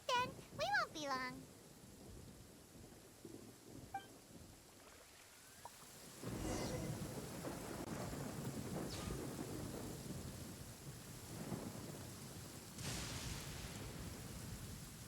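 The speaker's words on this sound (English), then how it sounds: "Got hit by lightning, damn it." Rumbling thunder and steady rainfall from a lightning storm in the Genshin Impact video game; after a few brief tonal sounds the storm swells into a continuous wash of rain with rolling thunder bursts through the rest.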